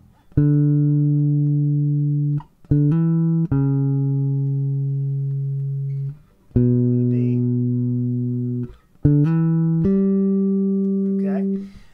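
A bass guitar plays a sequence of sustained low notes, each ringing out clearly before the next, with no talking.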